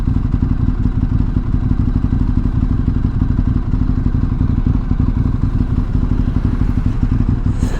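A Ducati 848 motorcycle being ridden, its engine droning steadily and loudly throughout with a constant rumbling, slightly clattery tone and no pauses.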